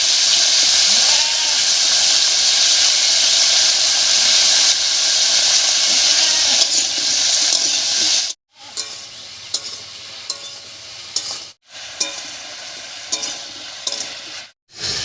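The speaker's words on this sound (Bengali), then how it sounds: "ফোড়নের উপরে লাউটা দিয়ে একটু নাড়িয়ে নিয়েছি" Bottle gourd dropped onto hot spiced tempering in a pan, a loud steady sizzle and hiss for several seconds, then stirring clatter and scraping broken by brief silent gaps, with no talking.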